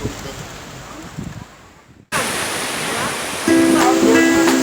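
Strong surf breaking on a beach beside a mangrove park in Tuban, a loud continuous roar of waves and wind that jumps abruptly louder midway, with faint talk under it.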